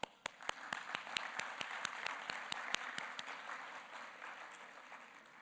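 An awards ceremony audience claps in scattered applause, sharp individual claps standing out over a soft, steady patter that fades slightly toward the end.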